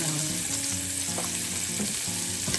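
Garlic goes into onions already frying in a pan, producing a loud continuous sizzle with scraping stirs throughout and no talk.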